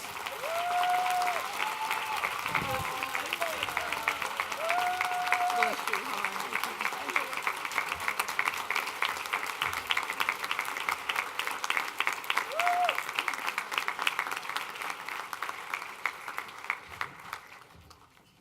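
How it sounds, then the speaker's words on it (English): Sustained audience applause fills a banquet hall at a women's honors gala, steady dense clapping throughout that fades near the end, with a few brief tonal chimes over it. "Let's give Linda another round of applause, please."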